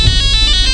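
A mobile phone ringtone chimes loudly and close, a quick repeating electronic pattern of bright tones pulsing several times within a split second.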